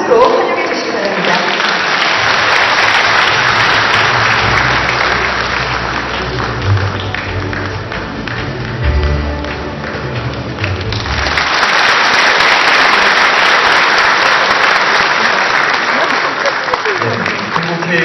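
Audience at the opening of a Korean digital cable TV show, applauding in a long, loud, continuous clatter of many hands that swells again after a brief lull.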